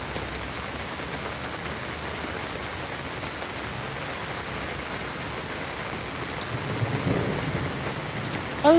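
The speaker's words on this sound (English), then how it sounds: "Oh, thunder. Did you hear the thunder?" Steady rain patters across a garden while low thunder rumbles softly in the distance, swelling slightly toward the end before a brief sharp noise closes the clip.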